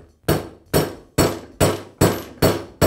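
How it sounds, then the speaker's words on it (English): Hammer striking a punch to drive out the roll pins securing the piston of a Bostitch pneumatic nailer, seven sharp metallic blows in an even, steady rhythm, close and loud with no talk. "I'll remove the two roll pins that secure the piston to the gun"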